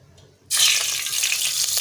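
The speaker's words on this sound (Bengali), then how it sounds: "তো আমি চুলার মধ্যে একটা কড়াই বসিয়ে দিয়েছি এরপর প্রথমে আমি এর মধ্যে দিয়ে দেবো তেল" Oil poured into a kadai on the stove for a cauliflower curry, starting abruptly after a short quiet and continuing as a steady, close, rushing hiss with no talking.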